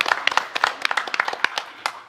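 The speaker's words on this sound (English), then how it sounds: "Let's give them all one more round of applause." A short burst of scattered clapping from a small group at a school board meeting, individual claps distinct and close, dying away after about two seconds.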